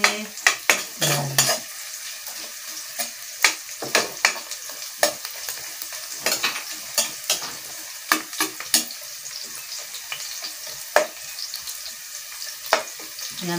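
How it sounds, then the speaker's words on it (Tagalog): Snails and santol sautéed in a pan, with a busy sequence of sharp utensil clacks and scrapes against the pan over a low frying crackle, close and unaccompanied by speech. "Gisa natin para matusta siya ng konti."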